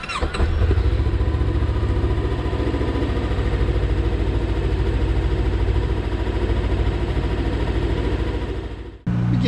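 Motorcycle engine starting up and settling into a steady, loud idle close by, running evenly for several seconds before cutting off near the end.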